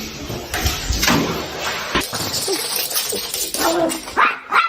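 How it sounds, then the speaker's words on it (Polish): A dog in a funny animal compilation, heard close up in short bursts of barks and whimpers over a busy background, with some door-like knocks and sliding sounds mixed in. "To jest pies, to jest pies ninja,"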